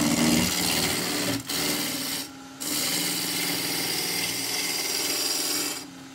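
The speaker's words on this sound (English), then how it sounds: "So it's taking a peeling cut." A spindle-roughing gouge takes a peeling cut on wood spinning on a lathe, giving a loud, continuous rough tearing rush that breaks off twice for a moment as the tool lifts.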